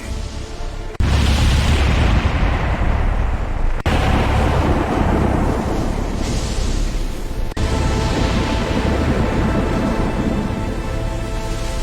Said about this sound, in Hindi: देखते ही देखते भयानक तूफान उठ खड़ा हुआ।